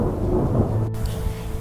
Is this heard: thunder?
yes